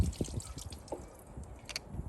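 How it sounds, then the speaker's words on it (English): Water running into the inlet line of a gas-powered soft wash system, a soft irregular trickle and drip close by without talk. "you're going to fill this up with water as well."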